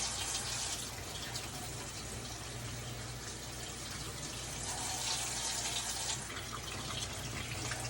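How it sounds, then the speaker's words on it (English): Hands being rinsed under a running tap at a sink, water pouring steadily and loudly for the whole stretch with a broad, unbroken splashing hiss and no talk. "Now I'm going to make sure that I'm rinsing from my wrist 3 to 4 inches of my wrist, above my wrist down to my fingertips."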